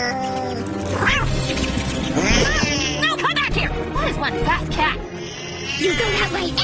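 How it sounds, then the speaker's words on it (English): Salem the cat lets out loud, drawn-out caterwauling meows that rise and bend in pitch, overlapping with music and lively sound effects throughout. "That is one fast cat."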